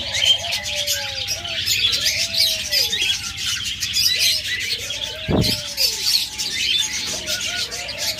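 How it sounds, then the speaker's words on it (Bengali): A pair of lovebirds chirps steadily among other caged birds at a bird market, with repeated short whistled calls and a brief sharp burst midway, under a constant background hiss of many birds. "এরপরে এখানে আরেক জোড়া চমৎকার লাভবার্ড রয়েছে"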